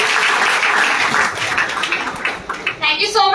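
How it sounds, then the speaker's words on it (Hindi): An audience at a gathering bursts into loud, dense applause that swells and fades slightly, with a few voices calling out near the end. "अबुल कमर अंसारी सर के लिए एक जोरदार क्लैपिंग होनी चाहिए"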